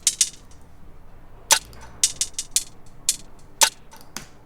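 Programmed hi-hats in a drum beat tick out as short, bright, crisp hits in an uneven cluster pattern, close and dry, with sparse quiet gaps between them and no other instruments or talk.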